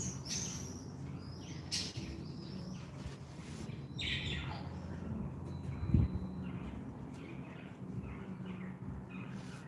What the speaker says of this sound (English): it's crows, pigeons, depending on the season, sparrows, a lot of seagulls